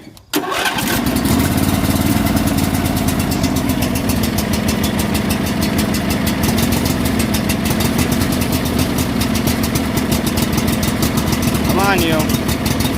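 A riding lawn mower's engine cranks and catches right away, then settles into a loud, steady, close-up idle that runs on with a throbbing rhythm.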